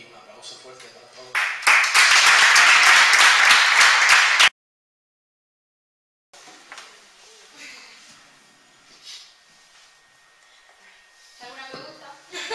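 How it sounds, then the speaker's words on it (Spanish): Audience applause after a talk on fairies and extraterrestrials, a loud burst of clapping that swells for a few seconds then cuts off, followed by quieter murmuring and voices speaking. "un aplauso fuerte para todos"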